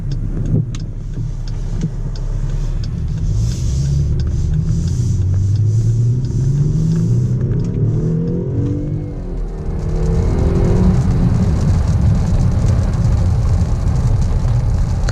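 A 2018 Dodge Durango GT AWD SUV engine turns over and catches, then settles into a steady, low, rumbling idle with a brief rise in revs, close by and continuous throughout.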